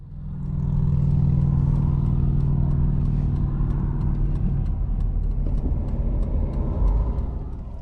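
Traffic on busy Highway 95 near Lake Havasu City rolls past close by as a loud, continuous motor roar that holds steady for several seconds and carries no voices.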